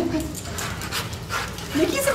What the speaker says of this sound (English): like a big dog, but Mickey is really just a puppy